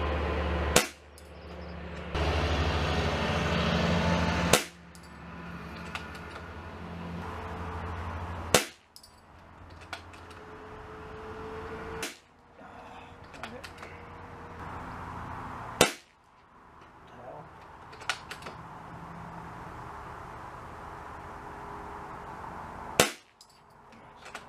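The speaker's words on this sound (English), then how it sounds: "So, a Webley LiteW8 is shooting spot on." A .22 Webley LiteW8 air rifle fires at reactive targets out to 50 yards in six sharp, evenly spaced cracks, each followed by a short ringing tail, with a low steady background hum between shots.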